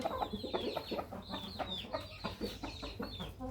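A young Burmese gamecock rooster gives soft, repeated clucks close by, with rapid short calls over steady farmyard background noise.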